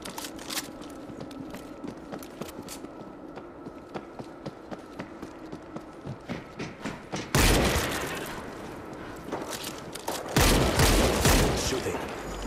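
Gunfire in the World War Z video game at a winter marina, where bursts of rapid shots break out after a stretch of quieter clatter and ambient noise, loud and dense in two heavy volleys.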